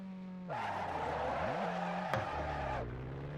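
In the Assetto Corsa racing game, a car drifts with a sustained tire skid squeal over a revving engine that rises, dips and climbs again, lasting a couple of seconds before fading.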